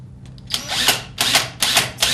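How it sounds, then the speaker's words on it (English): A power drill whirs in three bursts of grinding, gritty noise as it bores into a phone book, loud and close, with short pauses between bursts. "I'm going to drill a hole."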